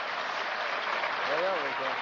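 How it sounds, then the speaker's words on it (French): A crowd at an outdoor pétanque match applauds a player just before his winning shot, a steady wash of clapping with a voice talking briefly over it. "Et le public, il l'applaudit avant même qu'il aille frapper"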